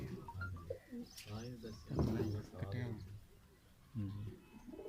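Deep, throaty coos from male and female pigeons repeat in short bursts close by on a rooftop, with a person's voice mixed in among them.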